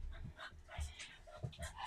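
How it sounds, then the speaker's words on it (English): Pet dogs excitedly whimpering, yipping and panting in the evening, a run of short, close, fairly quiet bursts mixed with a person talking. "I cannot believe my dogs are being this crazy."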